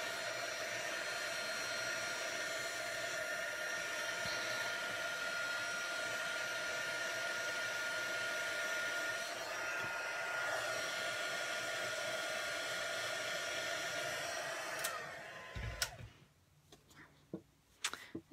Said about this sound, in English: you want to keep your heat tool moving because the heat tool could singe the white powder and make it look yellow